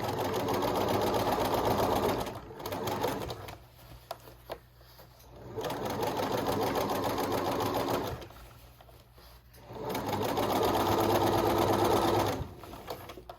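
Sewing machine edge-stitching the crown of a bucket hat, running in three long continuous bursts separated by short pauses, close and steady.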